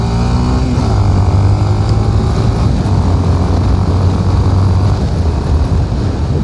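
A Honda XRE 300, a 300 cc single-cylinder motorcycle, is ridden steadily, its engine droning close and continuous with wind rush over it.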